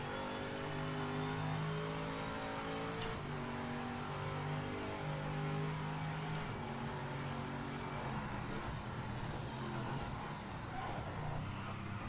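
A race car engine in Project Motor Racing drones steadily at a loud, close level, its pitch holding then shifting as the car accelerates and changes gear through a long continuous run.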